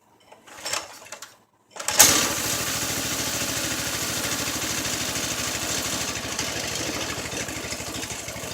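A homemade golf cart engine sputters briefly, goes quiet for a moment, then catches and runs with a loud, steady drone that holds right to the end, with no voices.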